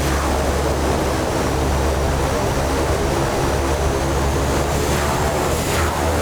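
Beechcraft B200 turboprop in X-Plane 10 with thrust reversers engaged, giving a loud continuous propeller roar and engine drone that holds steady from start to end.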